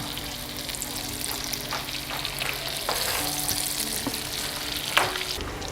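Tomatoes fry in a pan for an egg and tomato omelette, a steady close sizzle with light stirring and scraping throughout and a small clink near the end.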